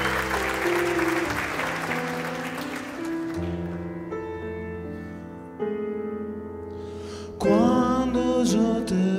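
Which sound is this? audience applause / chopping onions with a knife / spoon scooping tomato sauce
audience applause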